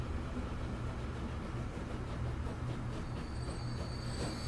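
A train in the video game Transport Fever 2 rumbles along continuously, a dense rolling wheel-and-track roar with a thin metallic squeal emerging near the end.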